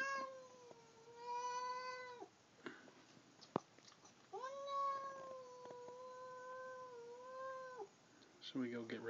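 A cat meows in two long, drawn-out wailing calls separated by a pause, close and clear, with some small clicks and faint rustling between and a short noisy burst at the end.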